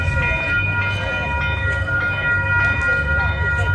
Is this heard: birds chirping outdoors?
no